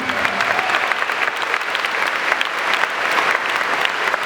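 Sustained audience applause at a live manga drawing battle event, dense even clapping from a large crowd, loud and continuous with little talk beneath.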